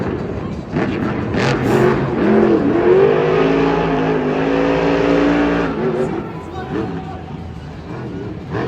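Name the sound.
monster truck engine revving at Monster Jam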